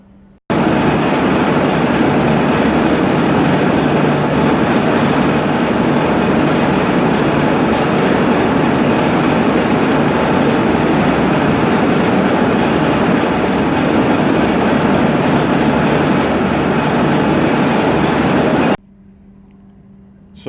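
Lathe trepanning cut made with a chipped tool while through-coolant flows, giving a loud, steady broadband machining roar that holds evenly for about eighteen seconds and then stops abruptly, leaving a low hum.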